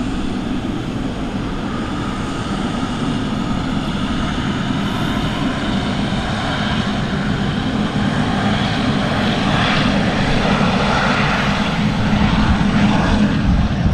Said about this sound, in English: Such a huge aircraft, the triple.